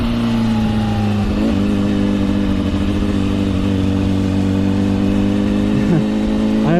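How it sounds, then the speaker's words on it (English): A 2025 Honda CBR600RR engine revs loudly up close, holding a steady high-pitched note, then dropping into engine-braking burbles before rising again. "I already feel pain in my balls because I'm every time I release the gas, I move forward. It's very, very powerful engine braking."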